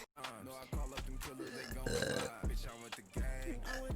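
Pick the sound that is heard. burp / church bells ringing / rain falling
burp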